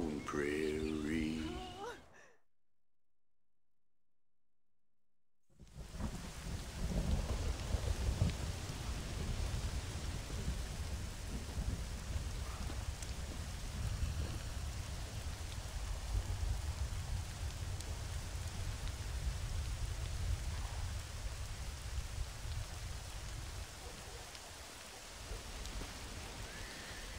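Steady rain in the western video game Red Dead Redemption, a dense, continuous hiss that starts after a brief dropout of silence and holds at an even level to the end.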